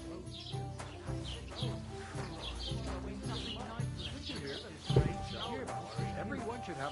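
A horse in Kingdom Come: Deliverance 2 clip-clops steadily along a road, close and moderately loud, with birds chirping and a voice speaking over it.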